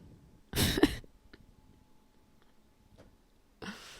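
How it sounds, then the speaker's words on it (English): Two harsh coughs burst right at the microphone, loud and close, separated by a few seconds of near silence with faint small noises. "Let me just cough right on my mic"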